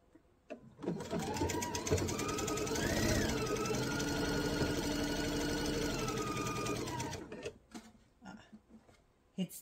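A sewing machine runs steadily for several seconds, stitching across the top of a mesh tote with a guide foot, a fast even mechanical whir that starts and stops abruptly, loud and close.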